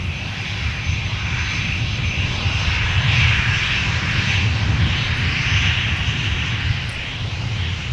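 A Delta jet airliner takes off at Minneapolis–Saint Paul airport, a broad steady engine roar with deep rumble that holds loud and even throughout, no voices over it.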